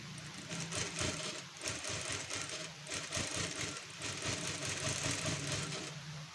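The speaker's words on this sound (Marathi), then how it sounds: "आपल्याला वरून त्याच्या टीप मारून घ्यायची आहे" Sewing machine top-stitching a prince cut blouse, running continuously and fairly loud with a steady mechanical whir and rapid needle clatter from start to finish, with no talking.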